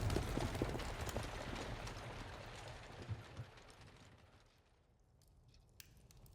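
A horse-drawn carriage with one horse rolls along, a dense rumbling wash of hooves and wheels that starts loud and close and gradually fades into the distance, no speech.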